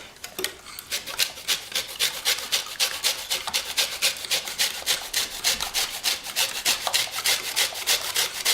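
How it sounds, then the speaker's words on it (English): Lemon peel is scraped against a kitchen grater in quick, steady rasping strokes, roughly two per second, close and distinct with no talking. "you can flip it around and just keep grating"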